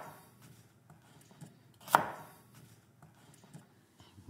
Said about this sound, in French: Je vais les couper.